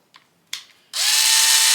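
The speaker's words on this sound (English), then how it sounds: "So I'm gonna drill a hole up towards the top in this side." A couple of short tool bursts, then a power drill whirs steadily at high speed, loud and close, running without a break.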